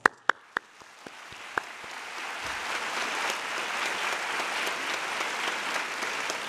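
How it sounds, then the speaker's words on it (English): An audience at a graduation ceremony breaks into applause: a few sharp, isolated claps at first, then steady, moderately distant clapping that builds and holds to the end. "Let us now give a clap to all those who have been there for us."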